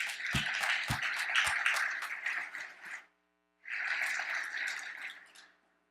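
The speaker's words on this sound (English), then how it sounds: "Let's give them another round of applause" A conference audience applauds panelists in two bursts of dense clapping, close and full, separated by a brief silence, with a few louder thumps at the start of the first.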